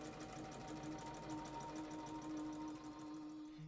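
A sewing machine stitches through fabric in a fast, steady mechanical hum with a rapid regular needle rhythm, running continuously and close with no voices.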